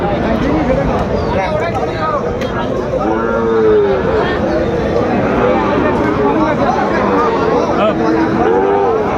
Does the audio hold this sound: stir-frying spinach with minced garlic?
no